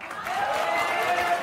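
Studio audience at a Maury talk show giving a short burst of steady applause, a dense crowd clapping that fills the brief moment at a fairly loud level.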